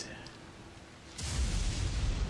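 Thunder from a lightning strike in the video game Dying Light: rain hiss, then a sudden loud low rumble that swells and holds to the end.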